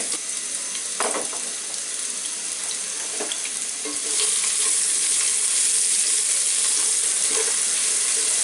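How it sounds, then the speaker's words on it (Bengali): Chopped onions and green chilies fry in hot oil for a mixed vegetable curry, giving a steady, broad sizzle that grows louder about halfway through, with a few soft stirring clinks over it. "সেই পেঁয়াজগুলো দিয়ে দিব আমি এর মধ্যে দিয়ে একটু ভেজে নিতে হবে সাথে মরিচগুলো পুরোপুরি ভাজা হয়ে যাবে"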